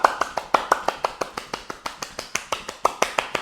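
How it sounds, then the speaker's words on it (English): Rhythmic hand clapping during a seated chair yoga practice, sharp regular claps about five per second, close and distinct with a faint background hum. "Maybe you turn it into a clap."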